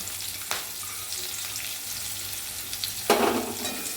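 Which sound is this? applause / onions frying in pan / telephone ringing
onions frying in pan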